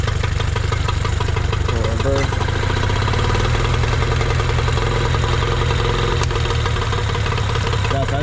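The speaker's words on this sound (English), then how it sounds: "Come down from high RPMs back to idle, it would usually die. Now it's staying running." A Nissan/Tohatsu 18hp outboard motor sits at idle after a carburetor cleaning and fuel pump repair, running with a steady low throb close up, while someone talks briefly over it.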